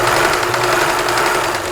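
A vintage Kenmore sewing machine stitching a zigzag, running at a fast, even mechanical chatter with a rapid repetitive needle rhythm, loud and close.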